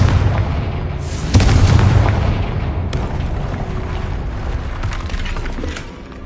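The Confringo fire-blast spell in the video game Hogwarts Legacy, heard as a loud booming explosion that rolls and decays over several seconds amid rumbling game ambience, with a second sharper burst soon after.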